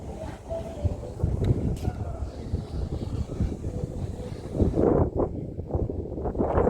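Strong wind at the Peak in Hong Kong roars and buffets the microphone in a steady, rumbling rush that swells louder toward the end.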